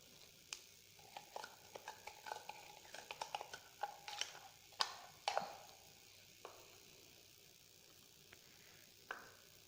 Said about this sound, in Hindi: हम इसको हल्की आंच पे जो है वो पकने देंगे, और साथ साथ हिलाते भी रहेंगे